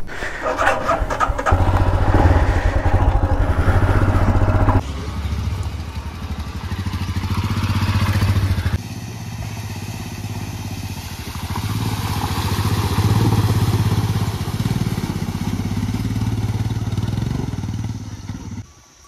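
A motorcycle ridden along a jungle trail on a camping trip, its engine giving a loud, steady drone throughout, with a noticeable shift in tone partway as the ride changes pace.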